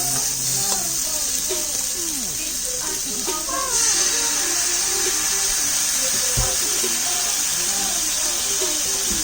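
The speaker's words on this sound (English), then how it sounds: "here we're just going to throw some garlic into the pan" Garlic sizzling in a hot pan for a shrimp carbonara, a steady bright hiss that runs the whole time beneath a person talking.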